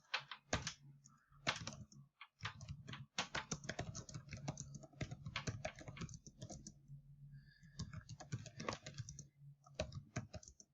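Typing on a computer keyboard during a class discussion, close and quiet, with bursts of rapid key clicks and short pauses between runs.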